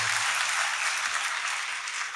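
An audience in a chapel claps continuously for the whole stretch, a dense, even wash of hands with no voices standing out.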